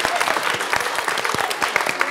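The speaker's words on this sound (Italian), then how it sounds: "Facciamo un applauso all'astronauta a lei." Audience applause for a child at a children's show, a continuous burst of many hands clapping close by, with sharp individual claps standing out from the dense patter.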